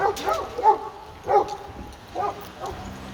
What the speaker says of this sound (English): One of the canine dogs right here.